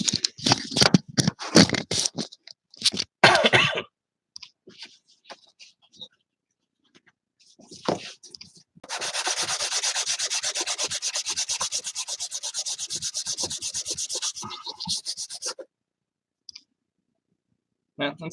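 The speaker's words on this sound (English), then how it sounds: "I need to hit it with 320 grit." Hand sanding of a painted commission piece with 320 grit sandpaper: choppy scrubbing strokes at first, quiet gaps, then a long steady run of rapid rubbing before it stops, close with no talk.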